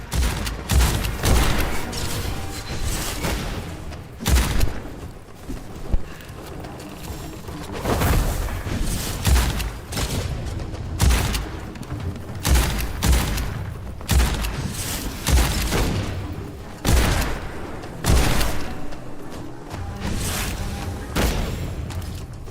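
A shotgun fires repeatedly in the dark fantasy shooter Witchfire: heavy booming blasts, loud and close, come every second or two in irregular bursts over continuous rumbling combat noise.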